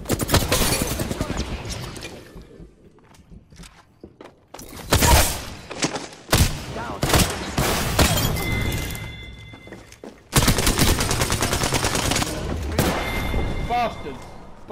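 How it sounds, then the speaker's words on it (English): Gunfire in a Kings Canyon match of a shooter game: loud, sharp bursts and volleys come in clusters with short quieter gaps, and a voice talks over the action. "Getting shot at."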